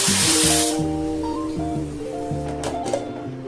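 A pressure cooker cooking chana with spices vents a loud steam whistle that hisses strongly at first and then fades, while background music with steady notes plays under it.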